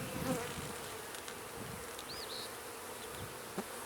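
Honey bees buzz around newly installed hives as a steady outdoor drone, with a few louder individual bees passing close by.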